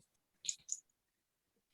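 Small tabletop gaming dice being grabbed and rattled by hand, heard as two short, close clattering bursts in quick succession and another brief rattle about a second later, with near-silence in between.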